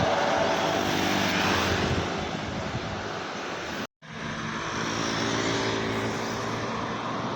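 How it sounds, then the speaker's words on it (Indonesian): A school bus on a road in Banda Aceh passes close by with a loud, broad rushing roar that fades briefly in the middle, then returns, with no voices. "Ini bukanlah bus ya, tapi bus sekolah."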